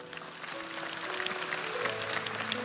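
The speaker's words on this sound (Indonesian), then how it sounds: "Kasih tepuk tangan untuk mereka juga." Steady applause from a church congregation during a sermon, continuous clapping at moderate volume throughout with a faint tonal hum underneath.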